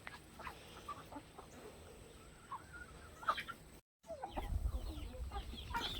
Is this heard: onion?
no